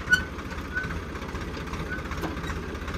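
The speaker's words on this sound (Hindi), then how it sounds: "अभी फोर व्हील ड्राइव में ही ट्रैक्टर चल रहा है" A Swaraj 855 4x4 tractor runs in four-wheel drive while pulling an 11-tine cultivator, its engine giving a steady, close, continuous low rumble with a few faint clanks on top.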